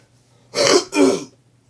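Two quick, loud throat-clearing bursts close to the microphone, the second following right after the first, with no talking around them.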